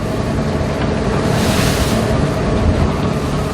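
Rough sea waves spray against a fishing boat at sea, making a loud continuous broadband rush mixed with wind buffeting, with a surge of spray midway through and no voices.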